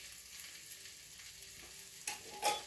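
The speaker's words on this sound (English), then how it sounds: "And now you're going to fry them a bit" Turmeric and chili powder fry softly in a pan, a faint crackling sizzle with small stirring scrapes and a couple of louder clinks toward the end.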